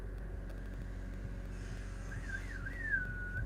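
A short, wavering whistle rises and falls a few times over a steady low engine-like rumble, fairly faint and without talk.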